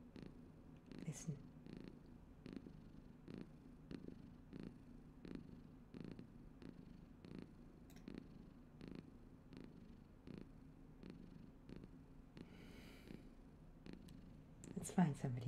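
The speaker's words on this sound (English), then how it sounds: "There is a cat. Listen." A cat purrs close and soft in a steady rhythmic rumble of repeated breaths, with occasional faint clicks and other sounds in the room.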